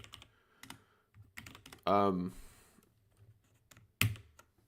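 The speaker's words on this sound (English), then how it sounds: "my typing's a little rusty" Typing on a computer keyboard during an operating-system programming session gives scattered clicks and short bursts of keystrokes. One louder, tonal burst stands out partway through, with a sharp hit near the end, and there is no speech.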